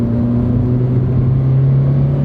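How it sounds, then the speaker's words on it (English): A small, modestly powered car engine pulls away after a stop, a steady close-up drone with a low hum throughout, heard alone without speech. "It's a fun little zippy car to drive around."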